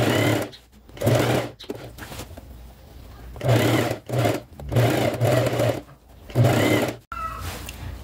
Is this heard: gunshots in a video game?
no